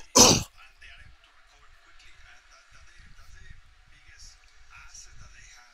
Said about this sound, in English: Coughing up a lot of sickness today